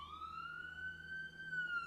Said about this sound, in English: There's ambulance.